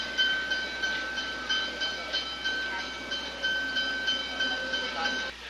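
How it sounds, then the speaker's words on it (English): Train standing at a station platform on a Sydney-bound service, with a repeating rhythmic clatter and a sustained high tone over a background hum, with no talk heard. "Train now standing at number 2 platform, the 1021 train to Sydney."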